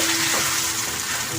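Chicken fries in a pan for shile bata murgi while being stirred, a dense, loud, continuous sizzle with soft scraping and shuffling underneath, no voices.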